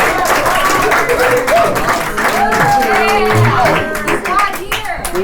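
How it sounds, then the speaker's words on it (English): An audience at a poetry reading during an arts and zine fair claps and cheers in a dense, sustained burst of close applause with whoops, voices calling out over it. "If you want to cheer for him to give me more time,"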